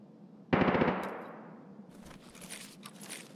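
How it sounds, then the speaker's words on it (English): A PPSh submachine gun in Escape from Tarkov fires one rapid burst of about eight shots with a booming echo tail, followed by faint shuffling and movement sounds. "That was a PPSH."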